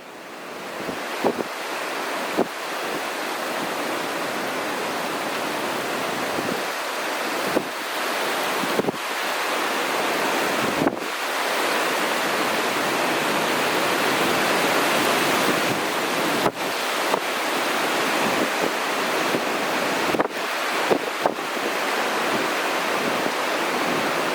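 Carrington Falls, a 90-metre waterfall, roars as a broad, steady wash of spray and rushing water, with buffeting wind gusts producing sharp microphone thumps throughout, loud and continuous with no voices.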